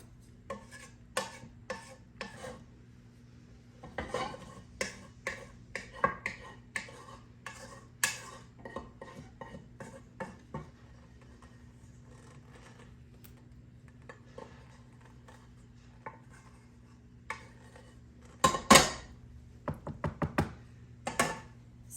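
Spoon scraping and knocking against a metal pot while leftover farmer's cheese curds are scooped out, a run of sharp close taps and clinks in irregular rhythm over a steady low hum, no talk.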